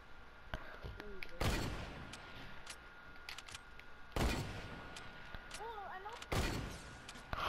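Gunfire in the Fortnite video game: three loud, sharp shot bursts spaced a few seconds apart over steady game background sound, with a faint voice in the mix.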